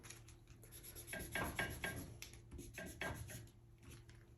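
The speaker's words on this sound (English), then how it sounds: "We can make little marks on our paper as well." A pencil scratches quick, quiet marks onto paper in a figure-drawing session, giving a series of short, soft rubbing strokes in an irregular rhythm.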